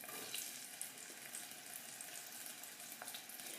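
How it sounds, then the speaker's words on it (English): Onions frying in a pan make a faint, steady hiss of sizzling, with a few soft crackles, quiet and even throughout, no talking. "We'll chuck in the onions."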